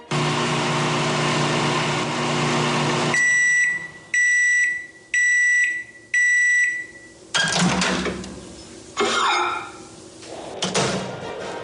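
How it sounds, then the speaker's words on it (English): A microwave oven hums steadily, then stops and gives four evenly spaced electronic beeps, followed by clunks and rattling as the door opens and things are moved, all close and loud without talk. "It's a microwave."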